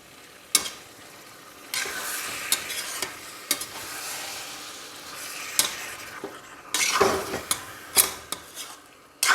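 Chicken pieces are stirred in a frying pan for a coconut chicken curry. A spoon scrapes and clinks against the pan over and over above a low sizzle, close by and with no voice.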